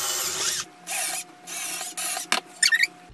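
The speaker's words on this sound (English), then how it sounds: "Over here where I've started to drill the holes" Short bursts from a power drill boring nail holes for mason jar string art, several start-stop runs in quick succession, close and loud, with a brief rattling whirr at the end.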